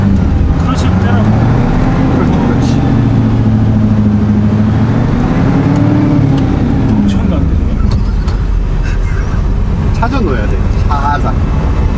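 A Samsung truck with a ZF manual transmission pulls away, its loud engine drone rising and falling in pitch through the gear change while people talk in the cab over it.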